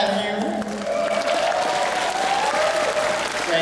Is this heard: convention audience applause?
yes